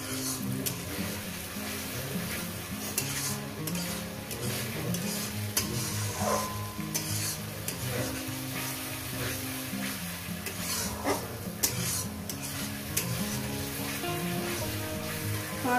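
Spices for an egg curry being sautéed in a pan, with a steady sizzle and repeated scraping stirs running continuously throughout, close and fairly loud, with background music and faint voices.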